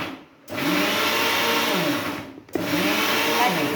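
A mixer grinder coarsely pulses a chole pakoda mixture, two loud steady motor whirs with grinding texture, the first running about two seconds, then a brief stop and a second burst, with no talking.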